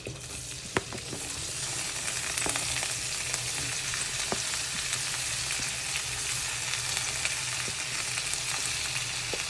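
Spices and onions fry in a pan for homestyle butter chicken, a steady close sizzle with scattered crackles and pops and occasional stirring scrapes, with no talking.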